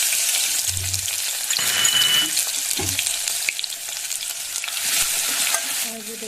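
Ginger-garlic paste hits hot oil as the tempering starts for a Maharashtrian-style spicy chicken curry, giving a loud, continuous sizzle and crackle close up, with a few soft stirring scrapes and no talking.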